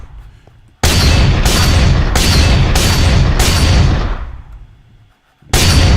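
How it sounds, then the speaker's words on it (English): Widowmaker shotgun from a Team Fortress 2 mod for Minecraft firing in a video game, five loud booming blasts in quick even rhythm, then a decaying tail and a sixth blast after a short pause. "The Widowmaker. Which this weapon uses scrap metal."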